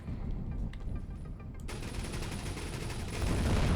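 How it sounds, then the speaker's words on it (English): Spaceship energy weapons firing a sustained barrage in Avorion, a dense rapid stream of crackling shots that grows slightly louder toward the end, with no one talking. "Just a barrage of bright energy taking out that thing's hull."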